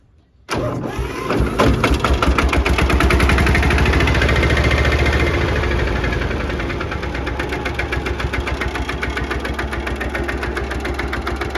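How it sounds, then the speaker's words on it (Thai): An old single-cylinder tractor engine more than sixty years old starts abruptly and settles into a loud, close, rhythmic thumping that is raised with the throttle and then eases back to a steadier chugging. "เครื่องสูบเดียว ดีจัดเลยครับ"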